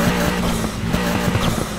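A heavily modified car engine in the racing game Need for Speed Heat roars at steady high revs, loud and close, with a rough buzzing tone and no talking.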